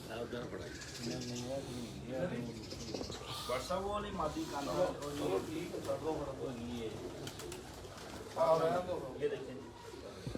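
Several pigeons coo in soft, rolling bursts close by, overlapping one another, while someone talks over them throughout.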